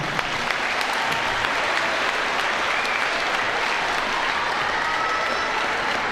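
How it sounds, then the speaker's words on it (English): A gymnasium crowd at a Rock Creek vs Rossville high school basketball game gives a sustained round of loud, dense applause for the senior players, steady for several seconds with no talk over it. "let's give our high school basketball seniors one more round of applause, please."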